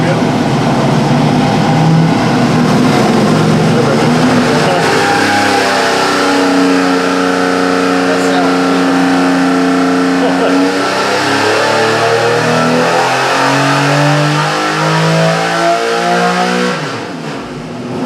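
A naturally aspirated Buick Grand National engine on a dyno during break-in roars loudly up close, revs climbing and falling in repeated sweeps throughout, then cutting off at the end; a voice speaks over it.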